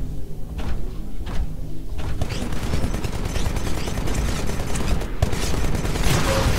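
Rapid bursts of gunfire from a Titan's Vortex Shield refiring absorbed bullets in Titanfall, a dense, loud, continuous clatter of shots with heavy low thumps, running unbroken throughout amid chaotic battle noise.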